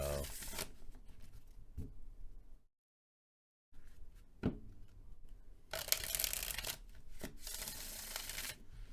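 Tarot cards are shuffled in repeated riffling bursts, close and crisp, with a brief silent pause in the middle.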